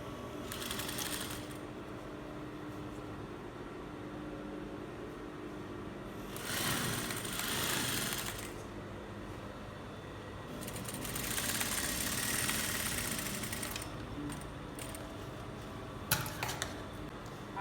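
A sewing machine stitches iro and buba fabric in several short, quiet bursts of rapid whirring, separated by pauses of near silence.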